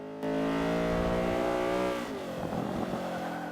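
A Honda Civic CRX Mugen revs hard in Forza 5, its engine note climbing steadily and loudly before dropping into a rougher, lower drone with faint tyre noise.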